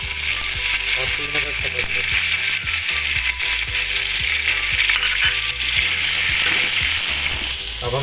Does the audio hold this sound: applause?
no